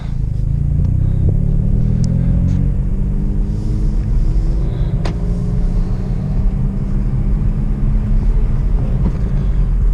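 Hyundai Veloster N fitted with an SXTH Element intake drives along, its engine note a steady loud rumble that rises in pitch as it accelerates, with a constant low drone and wind buffeting throughout.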